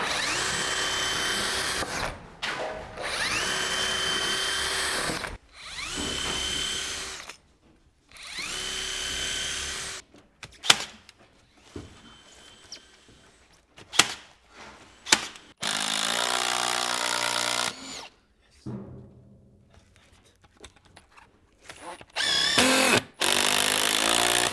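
A power drill drives into wood between beams at an angle, running in repeated loud bursts of several seconds each with short pauses between; later come quieter clicks and knocks, a shorter bursts and one last sustained run.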